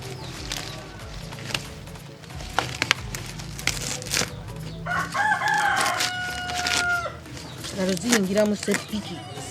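Outdoors in Africa, a rooster crows amid scattered bird calls and clucking, with outdoor clatter and a voice speaking at times in the background.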